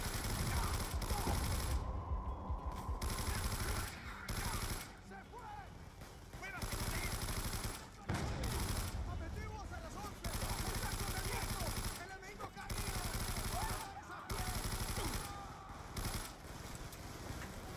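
Rapid automatic gunfire in the Black Ops 2 campaign, with dense bursts of shots rattling almost nonstop and only brief gaps, loud and close over a busy game mix.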